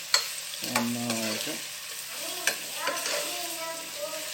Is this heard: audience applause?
no